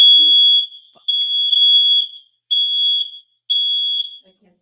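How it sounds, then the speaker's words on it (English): A loud, shrill fire alarm sounds indoors in four long, piercing electronic beeps separated by short silences. "It looks like we got a fire alarm going off."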